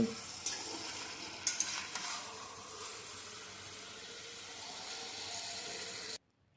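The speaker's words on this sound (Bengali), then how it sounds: "লবণটাকে ভালোভাবে নাড়িয়ে চাড়িয়ে আমি মিশিয়ে নিচ্ছি" Salt being stirred into masala chicken in a hot pan, a steady broadband sizzle with a few sharp scrapes and clicks near the start, continuous and close, ending abruptly.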